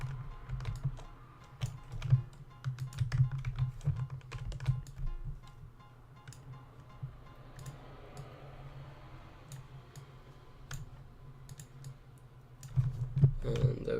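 Rapid computer keyboard typing of Photoshop shortcuts, dense bursts of close clicks with brief pauses, over a low background hum.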